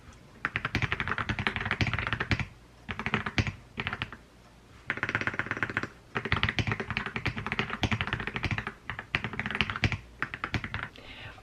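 Rapid typing on a new computer keyboard, dense clicking keystrokes in bursts with short pauses, close and fairly loud, no talking.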